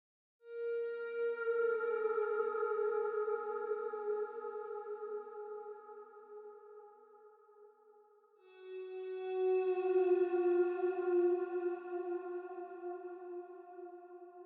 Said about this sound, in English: Next, we have the guitar slides.